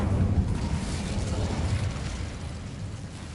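Incendio fire spell from Hogwarts Legacy, a loud roaring burst of flame that rumbles and whooshes steadily before easing off slightly, alone without talk.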